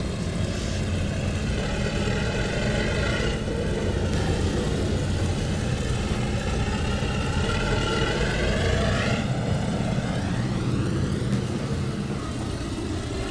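Diesel locomotive engines of a C&O Hinton train in the Trainz 2022 simulator, a steady heavy rumble with a drifting engine whine that swells and fades, running continuously for a long stretch without voices.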